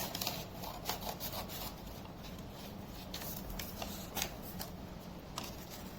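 Paper rustles, creases and gets snipped with scissors while being fitted and folded for a doll's yoga room, a close, faint run of soft scrapes and small clicks.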